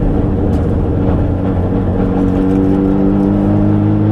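A Nissan S13 drift car engine drones loud and close, its pitch climbing steadily as the revs build. No voices are present.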